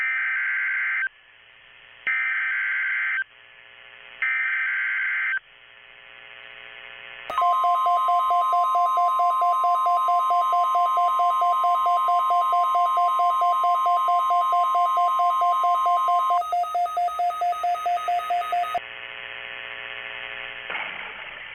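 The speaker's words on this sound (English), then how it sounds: "The signal you just heard was our weekly test of the following NOAA Weather Radio All Hazards Weather radio station." NOAA Weather Radio All Hazards weekly test from the National Weather Service in Grand Rapids, Michigan: three short bursts of data tones, then a long loud steady alert tone that shifts pitch before fading into a quieter hum.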